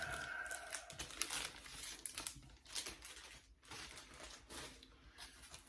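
Tape being pulled off a comic book package, with irregular tearing and crinkling bursts of plastic and cardboard close by, rising and falling over several seconds.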